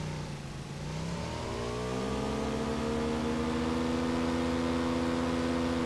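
A motorcycle engine in the PUBG video game revs steadily and loudly for the whole stretch, its pitch climbing a little and then holding near, with no talk over it.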